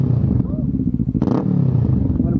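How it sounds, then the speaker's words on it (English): Motorcycle engine idling loud and close with a steady rough rumble, rising briefly in a short rev midway, while people talk nearby. "You want to hear my motorcycle?"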